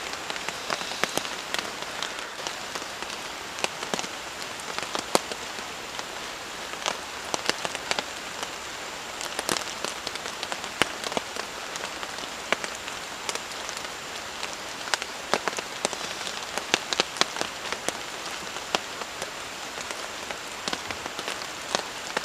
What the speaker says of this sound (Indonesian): Jadi ini hujannya nggak berhenti-berhenti ya, dari sore sampai tengah malam seperti ini masih aja hujan teman-teman.